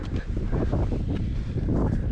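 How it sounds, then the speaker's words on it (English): Strong gusting wind buffets the microphone beside an ancient castle tower in Scotland, producing a loud, continuous low roar with rustling texture throughout. "it's so windy around here"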